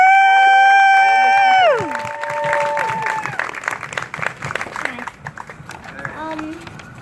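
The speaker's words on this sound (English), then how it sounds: "please give a round of applause" Crowd applause breaks out at an outdoor climate rally, rising after a sustained tonal sound fades, then continuing as scattered clapping that thins toward the end.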